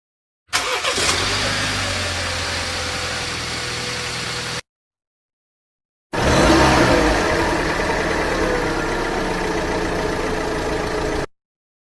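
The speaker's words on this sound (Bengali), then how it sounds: "এবার হচ্ছে কার স্টার্টিং, কার ইঞ্জিন স্টার্টিং, এই টাইপের একটা সাউন্ড দিলাম।" A car engine starting sound effect plays twice: each time the engine catches and then runs at a loud, steady idle for several seconds, with a short silence between the two starts.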